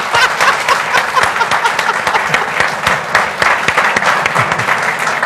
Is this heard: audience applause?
yes